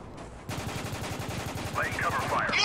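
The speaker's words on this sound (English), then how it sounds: "Taking heavy fire." Heavy automatic gunfire in the Spec Ops: The Line video game, a rhythmic stream of machine-gun bursts that jumps in loudness partway through, with whistling and ricochet-like tones layered over the shooting.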